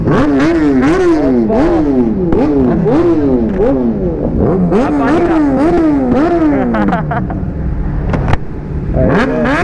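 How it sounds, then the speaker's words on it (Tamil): Loud stage-tuned superbike at a college auto meet, revving hard in repeated rising-and-falling sweeps with a rough, throaty exhaust, close and continuous throughout. "அது ஸ்டேஜ் டியூன்டு வெஹிக்கிள் அது. அதனால் வந்து அது எக்ஸ்ட்ரீம் லவுடஸ்ட் அண்ட் பவர்ஃபுல் வேறு."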